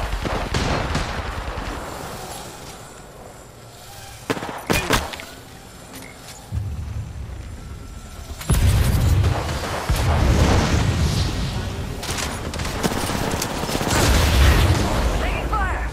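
Gunfire in the battle royale game Apex Legends, loud bursts of rapid shots and booms with game effects and a voice over a busy mix, intensifying in the second half.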